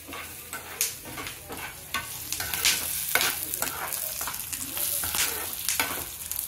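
Peanuts roasting in oil in a pan on a home stove while being stirred, giving repeated soft scraping strokes over a low, steady sizzle, fairly quiet and with no voices.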